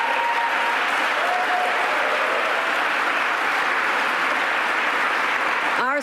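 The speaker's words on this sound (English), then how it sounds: "So let's give her a round of applause as well." Steady applause from an audience at a governor's infrastructure announcement in Buffalo, sustained clapping for several seconds before fading at the end.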